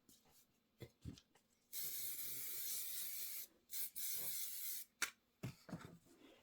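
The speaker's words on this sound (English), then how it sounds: "so I'm going to go ahead and spray these 2 pieces." Bursts of spray adhesive hiss from an aerosol can onto fabric pieces, one long continuous spray followed by several shorter puffs, close up with quiet gaps between.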